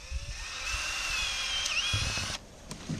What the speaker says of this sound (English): Now what I'm going to do is to take my cordless drill